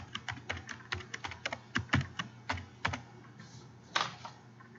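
Typing on a computer keyboard while filling in a software form field, an irregular run of close, crisp key clicks with a few louder strokes, heard alone and fairly quiet.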